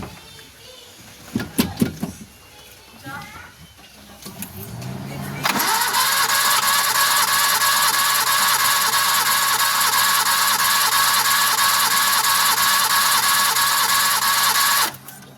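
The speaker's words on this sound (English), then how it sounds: "this is spark plug number 1 compression test." A turbocharged Kei car engine cranks over steadily for about nine seconds during a compression test on cylinder one, a loud, even whirring drone after some brief handling noise.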